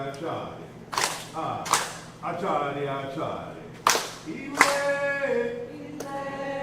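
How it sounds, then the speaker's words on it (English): Call-and-response clapping at a Sunday service: a leader calls out a word and the congregation answers with sharp, loud group claps, several bursts in a row spaced about a second apart, with speech between. "So when I call Achadi, it means what? Clap and clap"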